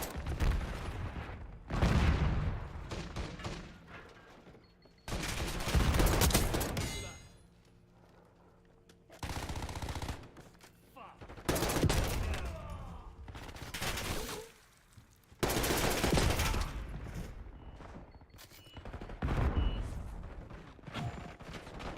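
Bursts of video game gunfire come in repeated loud volleys separated by brief quieter gaps, sharp cracks and rattling automatic fire filling most of the stretch.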